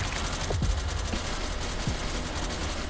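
Bursts of gunfire in the shooter game SCP: Secret Lab, a few quick distant shots over a constant low rumble of game ambience.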